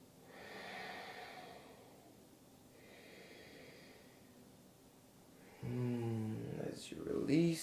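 Slow, deep breaths during a yoga shoulder stretch, soft drawn-out inhales and exhales at close range, followed by a voice speaking near the end.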